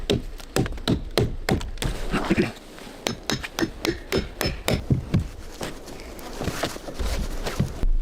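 Iron clamps hammered into wooden roof beams of a log cabin in a forest, a fast run of sharp, close metal-on-wood blows with brief pauses, loud and without talk.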